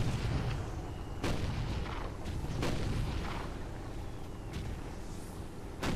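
Heavy tank cannon fire in the Toy Soldiers video game, several deep booming blasts spaced a second or so apart over a constant rumbling battlefield backdrop, loud and close.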